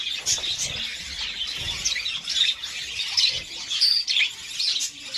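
Budgerigar parrots, including a rainbow budgie chick, chirp and tweet in a cage, with quick overlapping high-pitched calls that are close and fairly soft.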